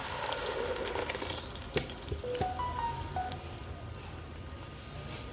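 Ginger, garlic and onion paste sizzles in hot oil while being fried for a desi chicken shorba, a steady crackling hiss with a few clinks of a utensil and no speech.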